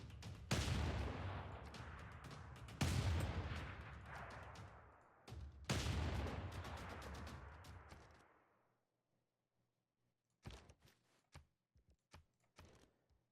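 Units firing in a Civilization VI Gathering Storm battle as Ottoman forces attack: three loud bursts of crackling gunfire in a row, each fading away, then a pause and a few short, sharp clicks.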